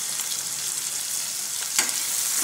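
Onion and turmeric sizzle steadily in hot oil with green chili and tomato for masoor dal fry, a close, continuous frying hiss with a brief stirring scrape partway through and no talking.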